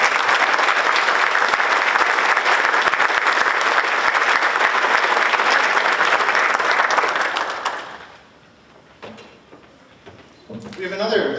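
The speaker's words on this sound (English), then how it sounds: "Please give him a round of applause." A high school orchestra concert audience applauds in a dense, loud wash of clapping for about eight seconds before it dies away into quiet room noise and a few stray sounds.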